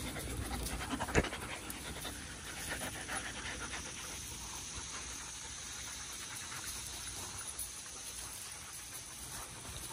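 Dogs pant rapidly and continuously close by, a steady breathy rhythm with a brief knock early on and no talking.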